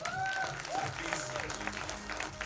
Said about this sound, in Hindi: give it up for Nana Patekar Saheb, ladies and gentleman